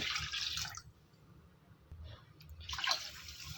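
Two short bursts of splashing water poured over washed lentils to soak them, separated by a quieter pause, close by with a low background hum.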